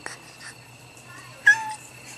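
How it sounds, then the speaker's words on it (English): A pet cat gives a short, fairly close meow near the end after a stretch of quiet, with faint background noise before it. "One of their new cats."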